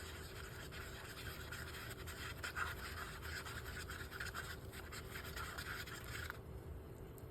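Rapid setting cement is stirred in a small container for fingerboard obstacles, giving a close, quiet gritty scraping that continues steadily and stops near the end.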